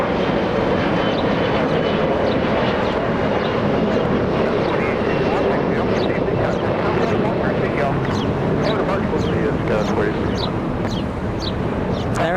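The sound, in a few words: SkyWest Embraer E175 taking off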